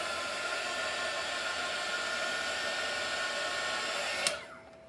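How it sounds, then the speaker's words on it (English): A heat gun blows hot air steadily over wet poured paint, a loud, close, continuous whooshing roar that cuts off near the end. "Now let's hit it with the heat gun,"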